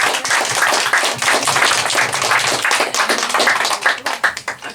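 A round of applause for comedian Becca at a fundraiser comedy show, steady dense clapping from the audience that carries through the whole stretch and begins to thin toward the end.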